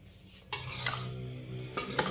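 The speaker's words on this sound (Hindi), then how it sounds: "इसको हम मिक्स करेंगे" Spoon stirring green chilli pickle through unheated raw oil in a bowl, with a few distinct scraping, squelching strokes close up and no one talking.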